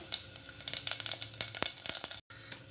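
Rapid crackling and popping of mustard seeds spluttering in hot oil, close and busy, with a brief silent gap near the end.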